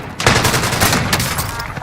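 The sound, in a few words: headshot sounds and gunfire in the video game Warzone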